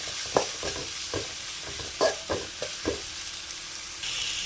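Onions and tomatoes sauté in a pan for cabbage rice, with a steady low sizzle under a handful of sharp scraping strokes of a spoon, fairly close, and no one talking.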